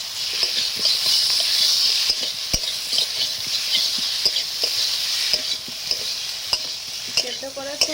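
Boiled elephant foot yam and a few ash gourd pieces being stirred into a sizzling fried spice mix, with a steady close hiss of frying and repeated scraping clicks of a spatula against the pan.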